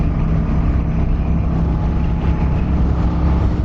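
A Kawasaki Vulcan 900 Custom motorcycle engine revs in a loud, steady roar that drones on with no pauses, a close, continuous rumble with a faint hiss on top.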